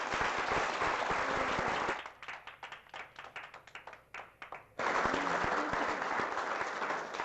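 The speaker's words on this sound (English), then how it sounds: "this would be a really good time for a round of applause for our guests here" An audience at a panel event for the Global Consortium applauds the guests, a dense burst of clapping that thins into scattered claps before swelling loudly again, with no talk over it.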